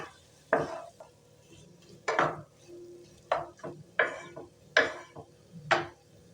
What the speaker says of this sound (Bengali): এরপর দিয়ে দিচ্ছি ভেজে রাখা সবজিগুলো ভালো করে কষিয়ে নেব মানে ভালো করে মিশিয়ে নেব মশলার সাথে সবজিগুলো